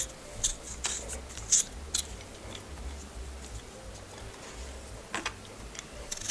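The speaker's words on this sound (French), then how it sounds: "On va commencer par s'éplucher des pommes de terre." Potatoes are peeled by hand, with small crisp scraping and clicking strokes that come in irregular bursts, close and quiet over a hushed room background.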